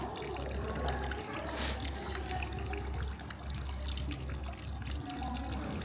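Water pouring from a public drinking fountain in Venice, a continuous faint splashing trickle close by, steady over several seconds with low background rumble.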